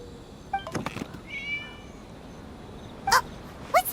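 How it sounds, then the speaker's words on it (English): A cat meows in the Genshin Impact video game during the Irodori Festival, with short sharp calls near the start and two clear, louder meows near the end, set against a quiet ambient backdrop with no speech. "It was just a cat."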